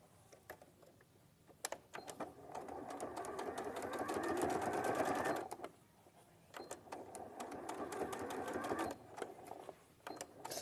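A sewing machine top-stitches fabric slippers in a steady, close, rapid needle rattle that runs in two sustained stretches separated by a short pause, with light clicks in between and no talk.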